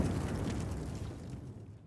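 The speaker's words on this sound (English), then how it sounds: "Frag grenade explosion cuts off the rest of the sergeant's words" Frag grenade blast in the video game Warhammer 40,000: Rogue Trader, a loud, dense low rumble that fills the moment and slowly trails off over a couple of seconds.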